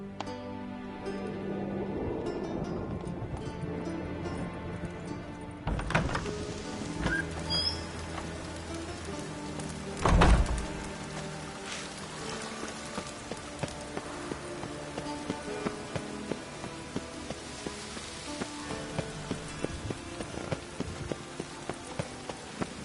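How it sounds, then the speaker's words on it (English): Steady rain hisses down in the video game The Witcher 3, a dense wash of falling drops. Partway through, a regular tapping like hoofbeats appears underneath the rain. "I like rain."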